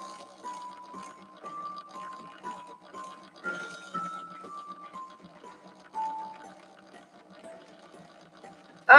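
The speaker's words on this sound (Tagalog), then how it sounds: "medyo na sira na rin yung blower ng laptop ko. So, ito, parang parang nagbabibrate yung LC, yung blower." A damaged laptop blower fan vibrates with a faint, wavering whine that drifts slightly up and down in pitch, with soft rattling underneath and a sharp click at the very end.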